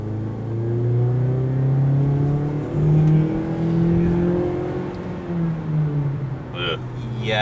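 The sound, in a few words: 2012 Mazda CX-5 small engine accelerating on a straight road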